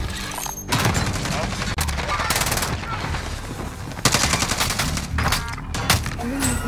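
Rapid machine gun bursts in a video game, loud and near, in sustained volleys with brief gaps, heavy thuds and explosions mixed in, with a voice talking over the gunfire.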